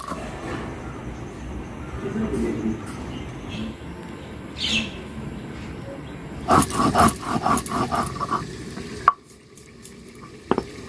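Chicken skin and legs fry in a covered pan with a steady, low sizzle. Toward the end, sharper clinks and knocks of utensils break in close by.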